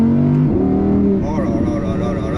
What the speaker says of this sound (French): À 4500 tours, ce moteur est délicieux.